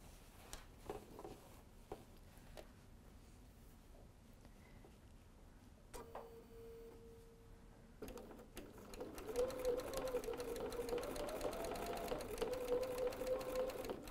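A sewing machine stitches a quilt-as-you-go mug mat, starting after some quiet handling and then running in a continuous, fairly soft mechanical whir.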